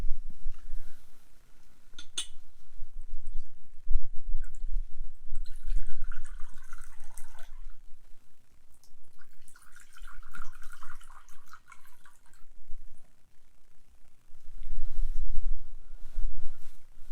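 Water poured as a Buddhist offering trickles and splashes softly in a quiet room, coming in a couple of gentle streams separated by pauses, with no one speaking.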